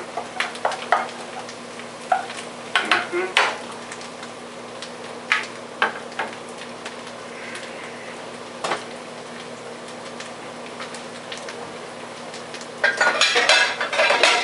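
Beans sit cooking in a pot beside beef chorizo and potatoes while a utensil scrapes and taps the pot in scattered sharp knocks over a low steady sizzle, with a louder burst of clatter at the end.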